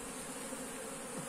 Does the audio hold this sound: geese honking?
no